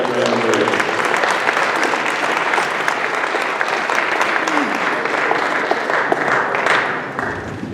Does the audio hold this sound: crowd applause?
yes